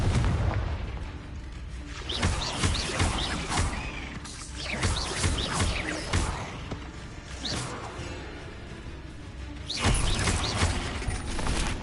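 Confringo explosive spell blasts in the Hogwarts Legacy video game, several loud booming bursts and crackling impacts in quick succession during combat, with dense layered effects throughout.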